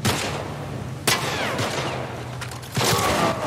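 Shotgun blasts in The Last of Us Remake on PS5: two sharp, loud reports about two seconds apart, each with a ringing echo tail, over a low steady game background.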